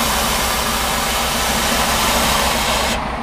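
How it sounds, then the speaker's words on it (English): Compressed air rushing out of a bus's suspension bellows, a loud, steady, broad hiss lasting about three seconds before cutting off, close by, with no talk. "Did you hear the sound the bellows made as the air came out?"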